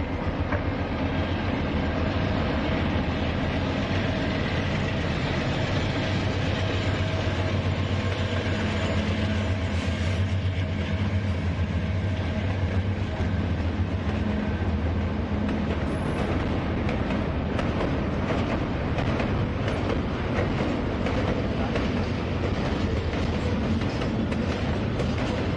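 A short Norfolk Southern freight train, the 265, rolls westbound through Johnson City, giving a long, loud, continuous rumble of wheels and cars with clickety-clack rhythms, heard close from trackside.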